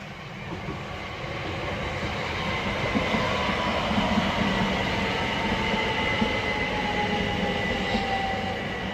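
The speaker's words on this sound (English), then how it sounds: "And now arriving in is 1 Sierra 46, the 1610 Southeastern service from London Victoria to Dover Priory." A Southeastern Class 375 passenger service from London Victoria to Dover Priory pulls into Newington station on the Chatham Main Line, with a loud, steady rolling rumble and rhythmic wheel clatter sustained throughout.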